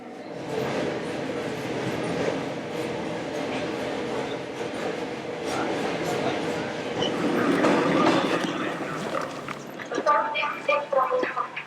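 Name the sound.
inside electric commuter train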